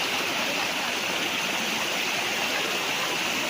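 Water pours from a natural spring on a farm lot in Lucban, Quezon, a steady close rushing and splashing flow that stays constant throughout with no talk over it.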